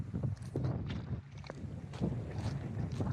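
Strong wind on a trek along Norway's Lysefjord buffets the microphone in low, rumbling gusts that rise and fall, with a few scattered knocks and rustles.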